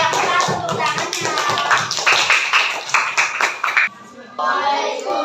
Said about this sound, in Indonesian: terima kasih tepuk tangan buat kelompok 5